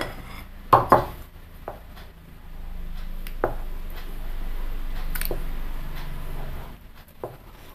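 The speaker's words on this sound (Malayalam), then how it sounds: "അതിലേക്ക് നമുക്ക് ഈ മുട്ടക്കൂട്ട് കുറേശ്ശെ ഒഴിച്ചു കൊടുത്ത് ഇളക്കാം." A spoon works an egg mixture into cooled semolina pudding for a caramelized rava pudding, giving a few sharp knocks against the bowl early on and then softer intermittent scraping over a low background hum.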